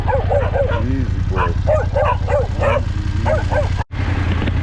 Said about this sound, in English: There are a lot of dogs around though.